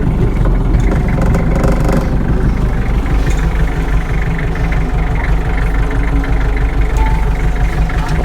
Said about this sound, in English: we should be good to pull away here